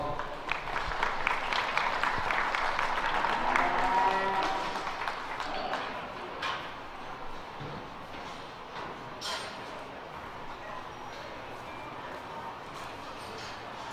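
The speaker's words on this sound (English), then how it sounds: "Let's give them a round of applause." Applause from the audience at a youth fair livestock show, a moderate round of clapping in a large open venue that swells for a few seconds then fades into distant crowd murmur and scattered claps.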